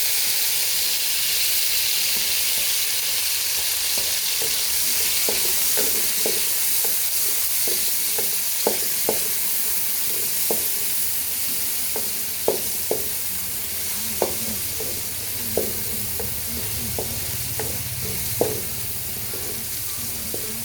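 Ingredients sautéing in a pan for pork and chicken adobo: a steady, loud sizzle and hiss throughout, punctuated by intermittent scrapes and taps of stirring against the pan.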